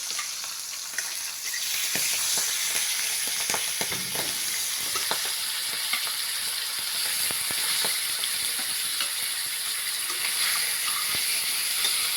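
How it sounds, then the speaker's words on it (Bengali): Pomfret fish frying in hot oil in a home kitchen, a steady close sizzle and crackle running throughout with occasional sharper pops, no voices. "তেল গরম হয়ে গেছে, এবার মা এক এক করে মাছগুলো ছেড়ে দেবে"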